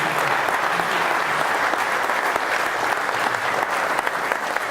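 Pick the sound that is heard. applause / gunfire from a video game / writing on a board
applause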